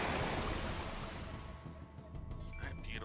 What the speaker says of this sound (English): Let's fill the bottom of the ship with water.